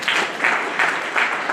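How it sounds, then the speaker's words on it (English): A graduation-ceremony audience claps together in a dense, crowd-wide burst of applause that swells and eases in short waves. "Can we have a round of applause for N."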